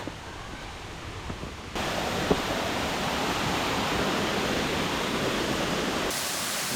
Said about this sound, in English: let's go and find the waterfall. We can hear it.